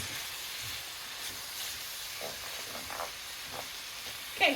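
Beef mince, partly still icy from the freezer, frying in a pan toward browning for a cottage pie, giving a steady soft sizzle and hiss with a few faint stirring knocks, fairly quiet and close.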